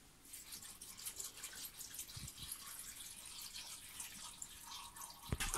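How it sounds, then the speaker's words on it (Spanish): Water runs from a tap over beans in a cooking pot for a Spanish bean stew, a steady faint splashing trickle heard close with no voices. "y cubrimos de agua."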